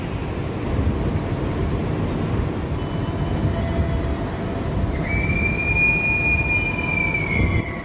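Kertanegara passenger train running on double track out of Kroya station, a constant loud rumble of wheels on rail with a thin high wheel squeal rising near the end.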